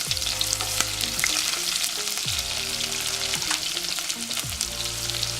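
Onion and garlic fry in a very hot pan, a loud, continuous close sizzle with crackling pops and no voices.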